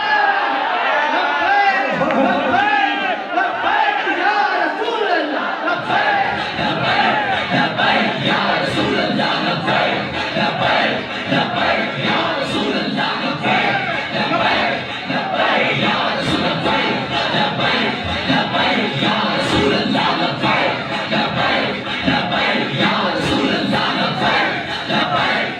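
A large crowd at a religious gathering chants slogans in loud, rhythmic unison. The roaring voices swell and repeat over a sustained, dense din.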